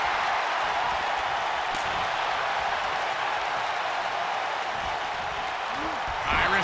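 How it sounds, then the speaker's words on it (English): A wrestling arena crowd in the WWE 2K video game roars in a sustained, dense wash of cheering, with a few brief louder swells and faint commentary-like voice traces near the end. "Listen to this crowd, Kevin."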